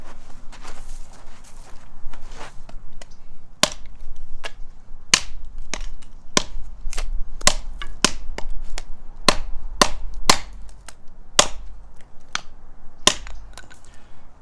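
An Ontario Rader Bowie knife chops branches for kindling outdoors, with a series of sharp, close wooden impacts about a second apart that come faster in the middle, over faint rustling and no speech.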